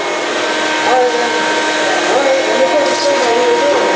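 A vacuum cleaner runs continuously at close range during a cleanup, a steady loud whirring drone with faint voices murmuring beneath it.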